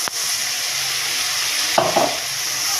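Drumstick pod curry stir-fried in oil, a continuous close sizzle broken by a couple of sharp spatula scrapes against the pan.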